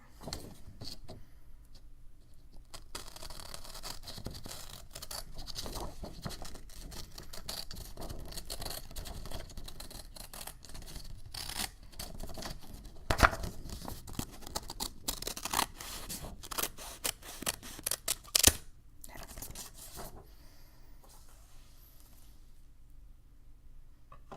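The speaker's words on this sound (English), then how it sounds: "you're gonna cut a long strip out of the sheet of paper" Scissors cut a long strip from an ordinary sheet of paper in a quiet ASMR setting: close, crisp snips and paper rustles over about twenty seconds, growing sharper and louder toward the end, with no talking.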